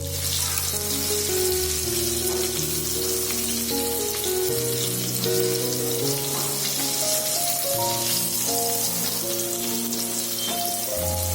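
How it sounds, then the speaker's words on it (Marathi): Pieces of halwa fish fry in a pan, sizzling in a continuous, fairly loud crackle with soft tonal music playing underneath. "एका बाजूने तुकड्या फ्राय झाल्यानंतर आपण चिमट्याच्या साहाय्याने तुकड्या फ्लिप करून घेणार आहोत आणि दुसऱ्या बाजूने फ्राय करून घेणार आहोत"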